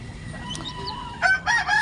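Soft clucking from a mother hen close by over quiet background noise, followed by a few louder, higher calls from newly hatched chicks near the end.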